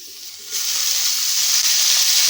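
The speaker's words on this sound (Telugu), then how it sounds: "మంచిగా ఫ్రై అవుతుందండి గోకరకాయ" Cluster beans (gokarakaya) fry in a little oil in a pan, a bright continuous sizzle that jumps louder after a brief quieter start and then holds steady, close up with no talking.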